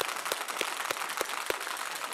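An audience at a morning business talk featuring a guest speaker claps as he is introduced; the clapping is steady and dense, with a few sharper individual claps standing out at regular intervals.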